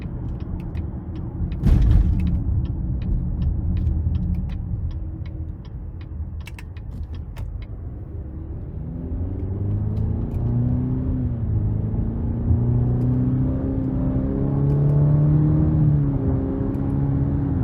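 A Cadillac XT5 with its 2.0-liter turbo four-cylinder accelerating in sport mode, the engine's hum climbing and shifting in pitch over a steady cabin rumble with a few clicks early on.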